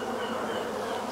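Honeybees buzz steadily and close at an open hive where the colony builds its own wax comb, a dense continuous drone with no pauses and no voices.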